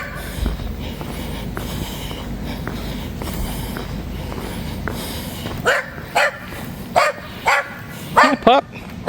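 A dog barks several times in quick bursts near the end, following a stretch of steady outdoor background noise by a railroad depot in a small Indiana town.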